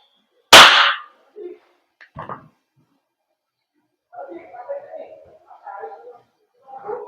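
An Umarex Glock 19 Gen 5 gas blowback airsoft pistol made by VFC fires one sharp, loud crack up close, then voices talk briefly in a quiet room.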